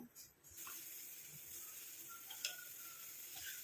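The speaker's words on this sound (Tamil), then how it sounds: "இப்போ பாருங்கள் நல்லா கொதிக்க ஆரம்பிக்குது." A steady hissing sizzle of liquid boiling in an iron pan on a stove, with faint ticks and pops scattered throughout.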